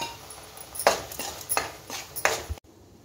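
Onions and tomatoes with turmeric and salt stirred in a pan for channa masala, heard as four sharp scraping clanks of a spoon against the pan over a faint sizzle, ending in sudden silence.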